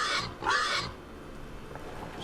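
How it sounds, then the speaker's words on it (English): A pig creature in UnderRail gives two loud, close, squealing oinks in quick succession, then fades to a low background hum. "It's a pig."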